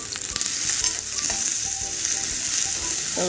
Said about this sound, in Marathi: तेल गरम झाले तर त्याच्यामध्ये आपल्याला घालायचे आहेत कांदा